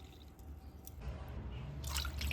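Water is poured into a mixer jar holding sabudana, heard as light drips followed by a swelling splashing trickle that grows louder toward the end, close and fairly quiet, with no voices.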